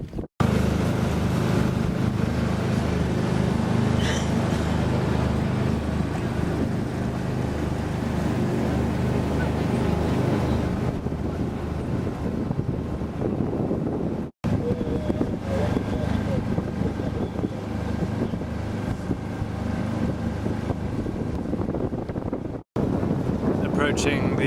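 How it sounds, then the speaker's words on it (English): Ferry crossing to Hurst Castle: a continuous low engine rumble mixed with heavy wind buffeting the microphone, steady and loud throughout with two brief dropouts. "So I'm going to take the ferry out to Hurst Castle."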